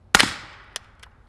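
A CZ Scorpion fitted with a Novox X-SD suppressor barrel fires a subsonic Monarch 115 grain round, giving one sharp, close crack with a short decaying tail, then two faint distant echoing pops.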